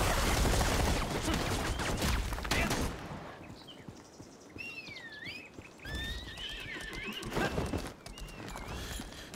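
In the Lost Ark video game, a horse whinnies with long wavering neighs repeated several times, backed by hoof clip-clops and busy combat noise that is louder at the start.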